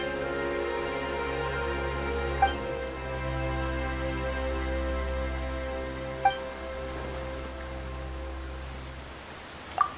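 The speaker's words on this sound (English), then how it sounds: "Why is it raining all of a sudden?" Steady rain falls in the video game Genshin Impact, a continuous soft patter that holds across the whole stretch over a sustained tonal background, with a few faint sharp ticks and no talking.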